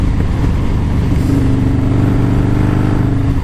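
A Harley-Davidson Softail motorcycle accelerating in sixth gear at light throttle: a loud, deep, steady engine rumble close by, with a continuous throbbing low drone and no voices.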